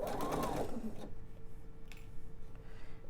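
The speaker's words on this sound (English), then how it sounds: "I'm just going to sew the length of the side." A sewing machine runs a short burst along the side seam of pieced pillow fabric, loud for about a second, then stops, leaving quiet room tone with a faint steady hum and a few light clicks.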